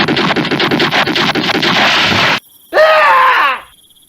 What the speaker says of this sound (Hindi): दोनों ने झाड़ियों में फायर कर दिए।